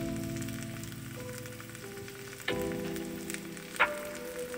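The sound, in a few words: food frying in butter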